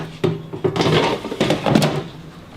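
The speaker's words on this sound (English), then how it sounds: "Now we're going to put these in the air fryer." A few hollow thunks and clatters of a basket sliding into an air fryer, close by, with a brief rattle and no talking.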